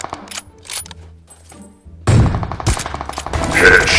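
One sharp, loud AWM sniper rifle shot cracks out on the Miramar map of a video game, followed by busy gunfire and game noise. Quiet sounds come before the shot.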